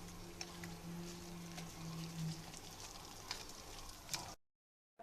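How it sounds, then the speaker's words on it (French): Yeast and milk batter for beignets being mixed in a bowl, a faint continuous wet whisking and stirring with soft scattered clicks, fairly quiet with a low hum beneath, cutting off abruptly near the end. "Et je vais commencer à mélanger."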